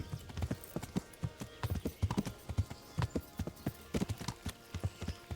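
Steady clip-clop of horse hooves at a walking pace in the video game Kingdom Come: Deliverance, evenly spaced hoofbeats, fairly quiet and unaccompanied by speech.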